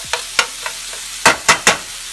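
Carbonara ingredients cooking and caramelizing in a pan, with a handful of crisp scrapes and clinks from stirring over a soft, steady sizzle.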